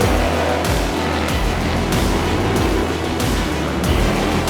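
A Harley-Davidson Road Glide bagger racing motorcycle accelerates hard on a race track, its loud engine roaring continuously, with repeated gear-shift breaks in the drone.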